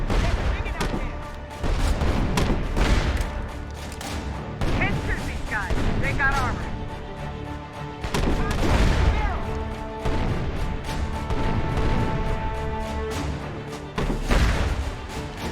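Rapid gunfire and explosive bursts from a grenade launcher in a State of Decay zombie-survival video game, repeated booms and crashes, with game music and effects running throughout at steady loudness.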